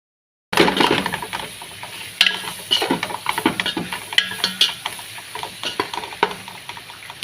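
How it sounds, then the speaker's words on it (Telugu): Onions and chopped greens with masala frying in a pan for a Kuwaiti-style vegetable mutton curry, a loud continuous sizzle punctuated by repeated scraping stirs and clinks of a spoon against the pan. "ఇవన్నీ ఉల్లిపాయలు, ఆకులు ఇవన్నీ వేపుకున్నాం కదా"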